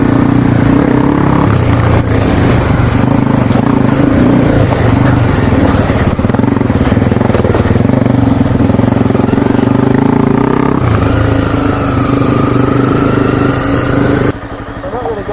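Dirt bike engines ride uphill in the rain as a 250 overtakes a DRZ, a loud, constant, close drone with rising and falling revs and no gaps.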